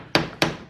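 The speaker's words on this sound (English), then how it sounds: "I'll hammer that straight." Two sharp hammer blows on the soft sheet metal of a Chevrolet Silverado rocker panel, evenly spaced about a quarter second apart, loud and close, each with a short metallic ring and no talking.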